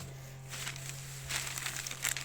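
A large plastic package of Ridomil Gold fungicide crinkles and rustles as it is handled up close, with irregular bursts of crackling over a low steady hum.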